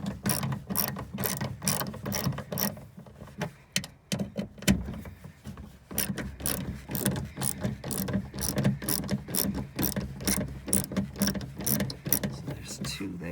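A ratchet backs out 8 mm bolts holding the power window motor inside the door of a Jeep Grand Cherokee, giving close, rapid clicking in repeated bursts with a brief pause midway.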